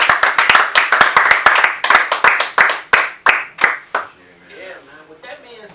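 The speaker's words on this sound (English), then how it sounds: "Yo, let's clap that for him, man." A few people clapping in a radio studio, loud, close, rapid hand claps that gradually slow and thin out over about four seconds, followed by quieter talking.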